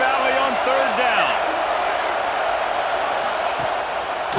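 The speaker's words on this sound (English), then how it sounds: "Here comes the noise from this big crowd in Happy Valley on 3rd down." Steady roar of a big stadium crowd in Happy Valley on third down in the College Football 26 video game, a constant loud wash of noise throughout with a few brief tonal calls near the start.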